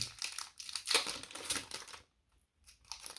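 Yu-Gi-Oh trading card booster packs being torn open, the foil wrappers crinkling and crackling in close, rapid bursts, with a short quiet pause before more rustling, no voices.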